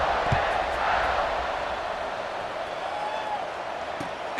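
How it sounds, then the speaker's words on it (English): A stadium crowd in EA Sports College Football 26 keeps up a steady, loud roar after a touchdown run, with a sustained buzz of cheering and a few brief shouts rising out of it. "this crowd is buzzing after that last score"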